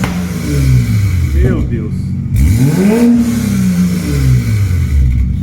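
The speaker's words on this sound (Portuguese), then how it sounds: "Válvula Nova Racing aberta." A 2021 BMW X6 40i with a Nova Racing sport exhaust, valve open, revs loudly nearby, its engine note rising and falling in repeated throttle blips while a person exclaims over it.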